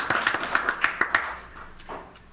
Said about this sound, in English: So you get a round of applause too.